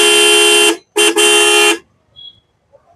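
A stock Minda single horn fitted to a Suzuki Burgman scooter sounds close and loud: one long blast, a quick short toot, then another long blast, followed by quiet.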